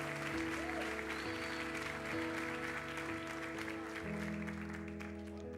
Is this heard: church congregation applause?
yes